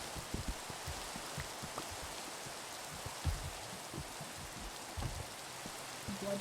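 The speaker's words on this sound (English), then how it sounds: "Why is it raining again?" Steady rain falls in Minecraft as a soft, even hiss with scattered faint patter, continuous and unbroken, no voices.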